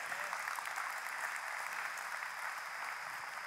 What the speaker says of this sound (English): give your neighbor a big hand clap for being in church today